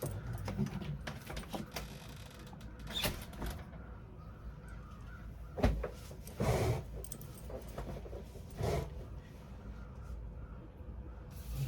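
Crows cawing outside a window, harsh repeated calls at irregular intervals, moderately distant over a low steady room hum.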